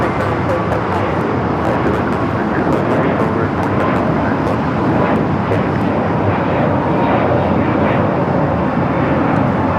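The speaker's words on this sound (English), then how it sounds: "This is United Airlines 1048 taking off to Denver, Colorado on the A321neo." United Airlines Airbus A321neo taking off at LAX on a flight to Denver, a loud, sustained engine roar carrying steadily throughout, with faint traffic noise and some voices in the background.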